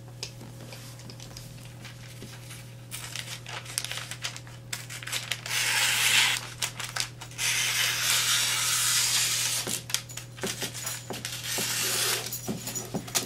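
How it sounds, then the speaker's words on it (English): Items are wrapped in paper for packing into a box, with sustained crinkling and rustling of sheets, bursts of louder crumpling and occasional taps, all over a steady low electrical hum. "Wrap them up. A little bit of paper."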